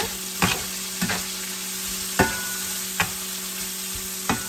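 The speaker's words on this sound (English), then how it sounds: "So going to give this a little stir" Zucchini, mushrooms and peppers stirred in a frying pan under a steady sizzle, with about six sharp scraping strokes spaced irregularly, close and moderately loud.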